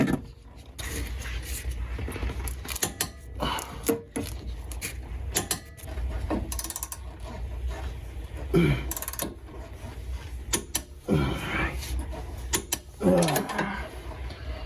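On a BMW E36 328i drift build, a torque wrench and ratchet tighten suspension bolts with repeated close clicks and mechanical clatter in irregular bursts over about fifteen seconds, fairly quiet, with no one talking.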